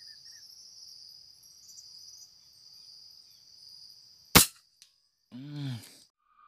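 One loud, sharp shotgun shot cracks over a steady chorus of crickets during a dove hunt, followed shortly by a brief voice.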